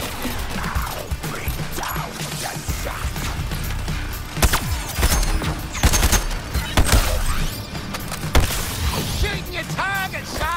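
Gunfire in the Suicide Squad: Kill the Justice League game while shooting at targets, a fusillade of sharp shots and impacts layered with explosive crashes in a dense game mix.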